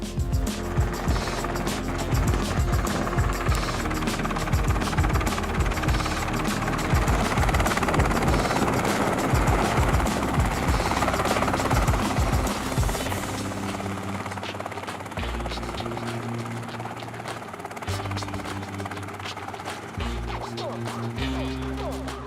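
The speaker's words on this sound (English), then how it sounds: "no actual footage of that helicopter landing on it" A helicopter's rotor chop and engine roar thunders steadily for the whole stretch, loud and close, easing slightly near the end.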